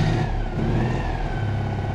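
A Citroen 2CV's small engine revs hard on an off-road test course, a close, strained buzzing roar that holds at high pitch for a couple of seconds.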